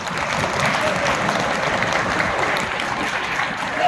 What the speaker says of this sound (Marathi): तुमच्यासाठी एकदा जोरदार टाळ्या वाजवा.